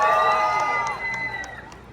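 Festival crowd at a large Muslim fest in Celebration Square, Mississauga, Canada, sustaining a loud, dense roar of cheering and shouting that slowly eases off over two seconds.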